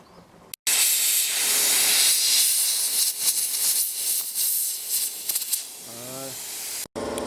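Compressed air blown from an air gun through the windshield washer line of a 2004 Toyota Avensis, a long loud close hiss that swells and wavers for several seconds, cut off briefly at the start and end.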